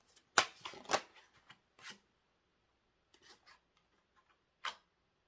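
Tarot cards shuffled and drawn by hand during a reading: a few sharp papery riffles and slaps close up, followed by scattered soft flicks and a last crisp card snap, with no talking.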